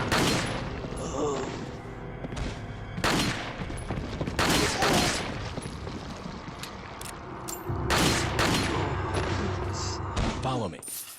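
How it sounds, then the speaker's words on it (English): Loud gunfire bursts from shotguns and other weapons fired in Resident Evil 4, set in the castle, arrive in repeated blasts several seconds apart over a steady game soundtrack and effects. "use a spread weapon like a shotgun"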